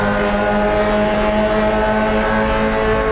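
A pack of Mazda MX-5 Cup race cars at St. Petersburg roars on throttle into turn 1, a loud, steady, multi-engine drone that holds throughout without pause.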